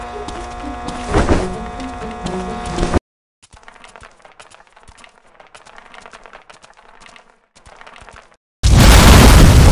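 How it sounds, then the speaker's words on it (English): Loud blasts and rumbling booms as a hospital burns in the video game Land of the Dead: Road to Fiddler's Green, then a quiet stretch of scattered crackles and pops, ending in a sudden roaring wall of noise. "Explosions rocked the hospital."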